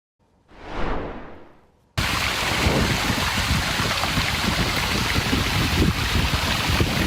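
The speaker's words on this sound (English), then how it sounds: "The amount of rain that fell, turning it into a raging river." A rain-swollen wash near the Eaton Fire burn scar in the San Gabriel Valley roars as a raging river, a dense continuous rush of churning water after a short whooshing transition sound at the start.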